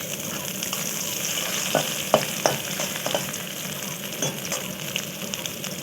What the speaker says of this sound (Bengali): তারপর ফোড়নটা হয়ে গেলে তার মধ্যে দিয়ে দিলাম কুচিয়ে রাখা পেঁয়াজ